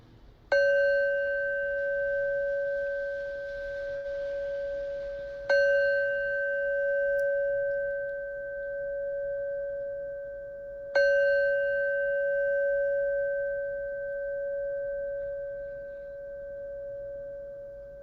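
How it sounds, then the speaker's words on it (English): A meditation bell marking the end of a mindfulness practice strikes three times at even intervals, each clear, sustained tone ringing out and slowly fading, with no talking. "you'll hear a bell ringing to signal the end of this practice."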